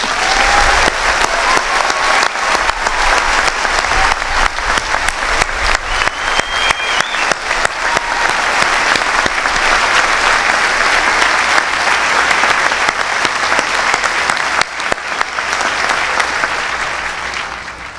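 Loud, sustained applause from a large audience at a United States Naval War College Class of 2014 graduation ceremony, a dense even roar of clapping lasting throughout before fading slightly at the end.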